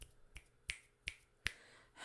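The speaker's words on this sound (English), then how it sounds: "Okay, you're snapping instead of clapping." About six sharp, dry finger snaps, close and crisp, land at an uneven pace in an otherwise quiet room, used in place of clapping.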